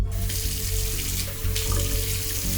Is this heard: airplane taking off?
no